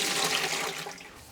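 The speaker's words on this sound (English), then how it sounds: "I drain the water" Water drained from a pot of cooked potatoes during home stew cooking, a steady rushing pour that is loud at first and tapers off over a second or so, with no talk.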